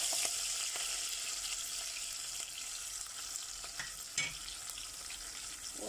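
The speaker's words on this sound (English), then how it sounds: "Once our onion is frying" Steady crackling sizzle of onion frying in a pan, with a few soft stirring scrapes; no talking.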